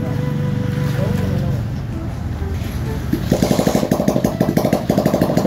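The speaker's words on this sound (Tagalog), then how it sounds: "Ito yung ating hatchback motor bike." A custom-built hunchback motorbike engine runs on a highway test drive, first a low rumble, then a rapid, loud, pulsing chug in the last seconds, with someone talking over it.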